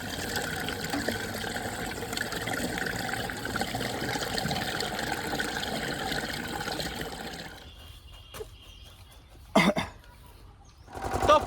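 Water poured into the pipe of an old pump, a continuous rushing, trickling flow for several seconds that stops abruptly, followed by quieter handling noises and a few brief knocks.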